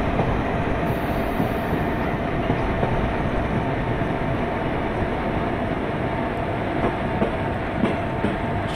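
A simulated WAG 7 locomotive hauling ICF coaches on the Kerala valley route toward Thrissur, braking gently into a platform. It gives a steady, loud rail rumble with faint wheel clatter throughout.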